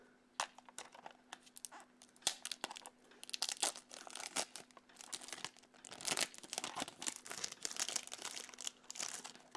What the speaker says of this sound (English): I really get enjoyment out of unwrapping tapes